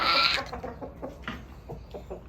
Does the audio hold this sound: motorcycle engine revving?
no